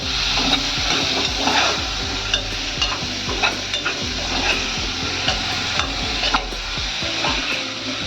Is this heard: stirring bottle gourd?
yes